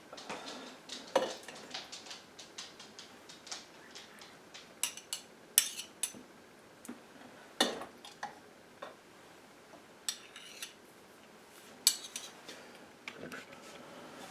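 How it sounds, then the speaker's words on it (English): Mincemeat is spooned into twelve pastry tart shells, giving sharp little metallic ticks and clinks of a spoon against tins or a bowl, many quick taps spread irregularly across a quiet kitchen. "I just put a good sized spoonful in each of the 12 shells"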